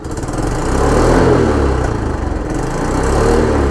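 Motorcycle engine revved with the throttle, a loud close-up buzzing drone that swells and eases slightly over a few seconds, heard alone without talk.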